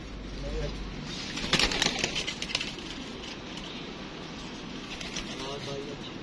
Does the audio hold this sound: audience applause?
no